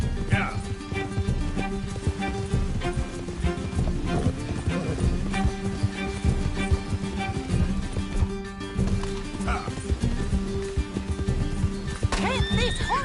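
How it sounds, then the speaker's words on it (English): Hooves pound in a fast galloping rhythm with a horse whinnying a few times, amid busy action noise and occasional shouting voices, in the video game Red Dead Redemption 2. "Can't this horse go any faster?"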